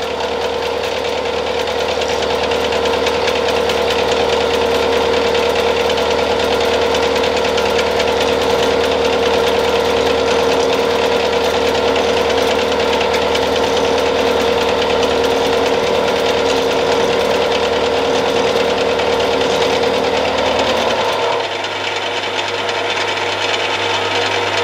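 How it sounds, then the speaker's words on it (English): Milling machine taking a 1 mm deep conventional pass, a loud steady mechanical drone with a rhythmic cutting chatter that runs continuously for about twenty seconds before the cut ends and the tone drops. "Let's mill out a whole mil. So 1 millimetre, and we'll see how that goes"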